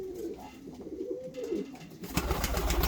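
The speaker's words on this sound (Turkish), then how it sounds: "Oy maşallah çok değişik güzel kuşlarımız var yine." Fancy pigeons of English, Könenberg and Bukhara types cooing in soft, low, rolling calls up close, joined near the end by a burst of rustling or wing flutter.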